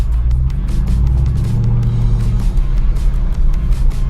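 A Jeep Wrangler 392 fitted with an ATLAS transfer case drives along, its engine a loud, steady low rumble mixed with road noise, heard close up with no one talking.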